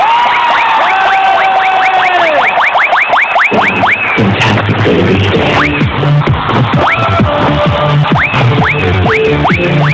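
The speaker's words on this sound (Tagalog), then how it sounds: "Isang palakpakan na may kasamang sigawan!" An audience breaks into loud, dense applause mixed with whoops and shouting, a close, sustained wall of clapping and cheering with sliding whistle-like tones layered over it.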